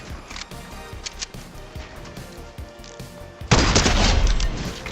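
Gunfire in a battle royale video game, with scattered booming shots and impacts over game sounds, then a sudden loud, sustained burst of noise near the end.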